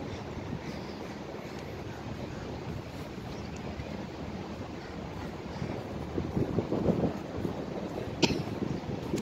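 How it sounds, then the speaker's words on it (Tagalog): Strong wind roars steadily into the microphone outdoors, a constant rushing buffet with gusts swelling louder toward the end. "Mahangin, no? Ayan guys, naririnig nyo ba yung hangin?"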